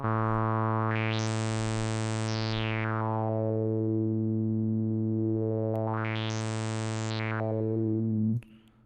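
A sustained buzzy guitar synth note sweeps its filter frequency up to a bright, open tone and back down twice, slowly and smoothly, before cutting off.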